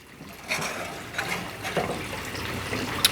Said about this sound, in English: We're gonna whisk that up, keep everything whisked.